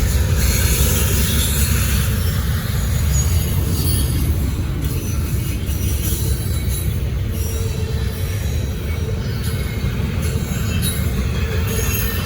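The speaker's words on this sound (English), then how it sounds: "I swear, it's taking this train so long to get here." A Norfolk Southern train rolls past near Gaffney, South Carolina, loud and close, a continuous heavy roar of wheels on rail with steady squealing and rattling throughout, no talk.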